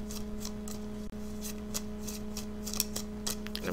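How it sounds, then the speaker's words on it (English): Tarot cards are shuffled in soft, quick riffles and slides close by, over a steady low electrical hum. "Okay, so I'm now shuffling the cards."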